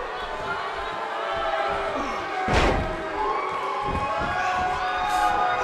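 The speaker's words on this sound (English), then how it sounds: "Judging from this crowd response, guys, there's no more magical place to be in Orlando right now" Arena crowd in the WWE 2K18 wrestling video game cheering in a continuous loud roar, with a heavy slam or thud midway and commentary running over it.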